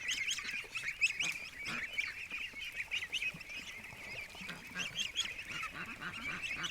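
Pet geese honk nearby in a continuous jumble of overlapping calls, loud and restless, with no one speaking over them.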